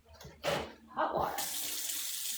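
Hot water running from a tap, a steady rushing splash starting after some brief bumps and handling noises, close and moderately loud.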